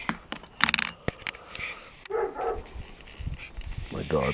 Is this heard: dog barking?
yes